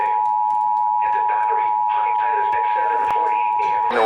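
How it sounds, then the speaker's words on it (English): A NOAA weather radio station's alarm test tone, a single loud steady electronic tone holding unbroken for about four seconds while people talk over it. "The preceding tone signals were a test of the alarm device of this weather radio station."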